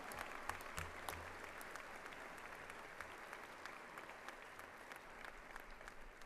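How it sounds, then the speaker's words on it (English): A large commencement audience applauds mothers on Mother's Day, a steady wash of many hands clapping at a distance, faint but continuous throughout. "Let's give a round of applause to all the mothers in the audience"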